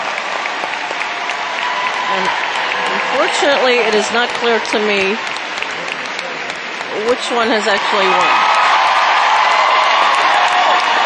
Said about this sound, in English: as the favorites clump by, the crowd roars in their approval